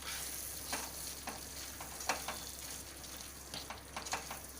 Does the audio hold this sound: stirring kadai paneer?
yes